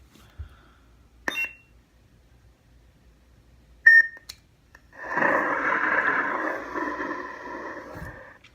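A Neopixel lightsaber hilt with an NBv4 soundboard gives two short separated electronic beeps, then ignites with a steady buzzing hum that runs for several seconds, all close and alone.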